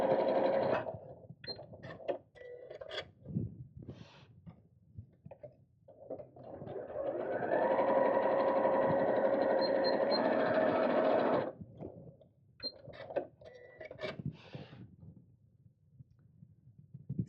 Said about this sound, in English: So I'm going to sew across the top and the bottom, just like I did with the pockets on the outside of the bag, and turn this into a tube.